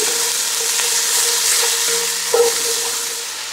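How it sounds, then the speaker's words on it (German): Onions and bell peppers frying in fat in a Dutch oven, a steady, even hiss of sizzling with a brief stir or scrape near the end. "geben wir die Zwiebeln in das Bratfett und die Paprika. Und auch das Ganze braten wir jetzt nochmal so ein bisschen an."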